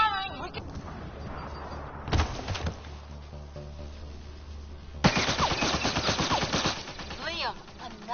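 Rapid bursts of automatic weapon fire in the sci-fi shooter Mass Effect: Andromeda, one short volley early and a longer sustained barrage later, loud and close, with voices around the shooting.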